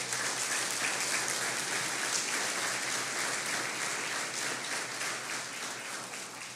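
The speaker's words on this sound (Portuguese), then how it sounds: "Vamos aplaudir ao Senhor Jesus por isso." A church congregation at a Portuguese-language service claps together in a sustained, dense patter that stays steady and fairly distant before easing slightly toward the end.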